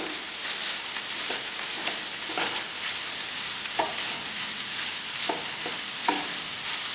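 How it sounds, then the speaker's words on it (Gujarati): Chopped cabbage being stirred into momo filling in a pan, with soft scraping stir strokes and light sizzling at a moderate, steady level, heard alone without talk. "ત્યાર પછી તેમાં આપણે ઝીણી સમારેલી કોબી એડ કરીશું અને બધું સરખી રીતે મિક્સ કરી લઈશું."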